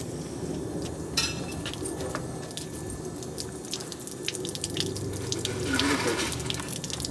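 Water running from a tap during knife cleaning in a workshop, a steady close splash into a sink with scattered drips and light clinks of metal.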